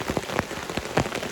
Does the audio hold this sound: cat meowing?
no